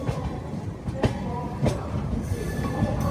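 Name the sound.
AP Sampark Kranti Express train nearing Jhansi station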